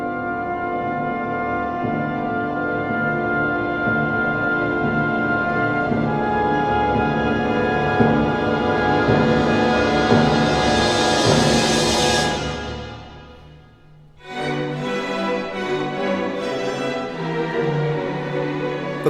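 Symphonic music played by a full orchestra, with dense sustained strings and brass swelling to a loud climax, a brief drop to near silence around the fourteenth second, then the music resumes strongly.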